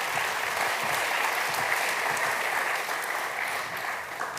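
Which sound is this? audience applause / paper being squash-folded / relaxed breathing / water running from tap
audience applause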